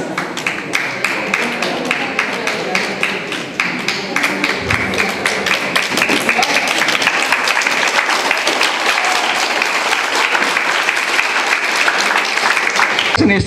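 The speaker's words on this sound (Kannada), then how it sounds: "ಎಷ್ಟು ಜೋರಾಗಿ ಚಪ್ಪಾಳೆ ತಟ್ಟಿದಿರಿ" Audience at a Kannada literary council student prize-giving applauding loudly, dense sustained clapping from a large crowd that swells and continues throughout, with voices faintly mixed in.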